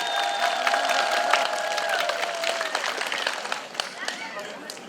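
An audience claps for a contestant, a short round of scattered applause close by, fading and thinning out within a few seconds, with a voice talking over it at a festive folk gathering.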